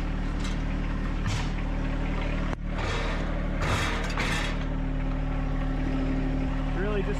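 A John Deere 1025R compact tractor drives forward with a steady, droning engine hum and low mechanical rumble, running continuously and close by, with some voices faintly under the noise.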